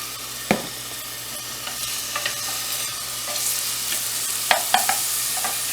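Chopped onions and garlic browning in olive oil in a pan, a steady soft sizzle with a few sharp clicks and scrapes of a stirring utensil, close and alone without talk.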